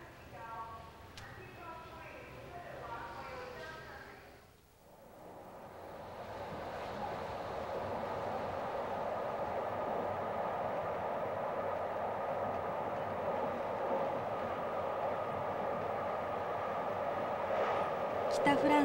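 Steady rumble and clatter of a blue Wagons-Lits sleeper train rolling along the tracks through northern France, continuous and fairly loud, with a brief dip early on before the noise settles into a constant roar.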